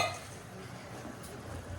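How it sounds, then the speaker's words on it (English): Diced tomatoes poured into a pot of spiced vegetable curry and stirred, giving a brief wet sloshing and scraping under a soft sizzle, close and moderately loud. "Pour my diced tomatoes."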